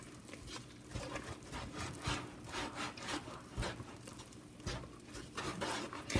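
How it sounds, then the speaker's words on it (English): A thick, hot Oreo cookie fudge mixture is stirred in quick, rhythmic scraping and rubbing strokes, quiet and close, with no talk. "I need to hurry up and start stirring that up while it's still nice and hot"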